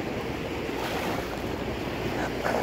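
Murky storm-stirred sea at Khosta surges against the shore after flooding, a continuous rushing wash mixed with gusty wind on the microphone.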